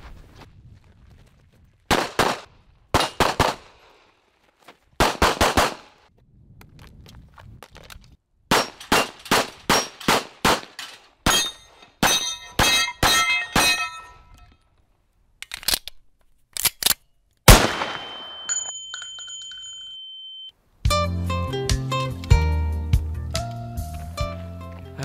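Guns firing at an outdoor shooting range: sharp single shots and quick strings of reports, some ringing like struck steel targets, spread over the span and ending in a dense burst of rapid fire.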